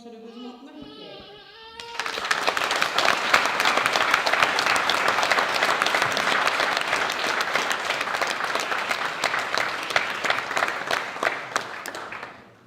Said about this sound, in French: je demande d'applaudir vraiment chaleureusement Marie-Pierre.